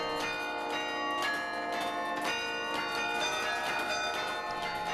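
Old Karelian bells ringing in Klaipeda, Lithuania, with a steady run of rich, overlapping chimes whose ringing tones sustain throughout at moderate, fairly distant volume.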